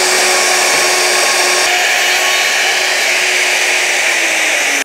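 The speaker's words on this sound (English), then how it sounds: "And there's that cut with the half inch router." A Dewalt D26204K router with a half-inch setup cuts into wood, giving a loud, steady, high motor whine that holds unbroken from start to finish at close range.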